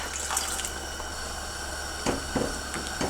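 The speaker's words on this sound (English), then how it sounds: "Go go ahead and add in the rest of the broth." Chicken broth is poured into a stew pot, a continuous liquid rush close by, with a few brief splashy clinks toward the end.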